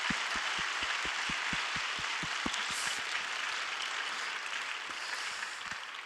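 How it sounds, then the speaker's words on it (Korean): Applause from a church congregation at an All Nations worship service for the cell leaders, a soft, steady patter of many hands with a few close, sharp claps thudding in a regular rhythm over the first half. "이곳에 계신 모든 우리 마리님들과 셀리더들에게 큰 응원의 박수를 좀 보내고 싶습니다"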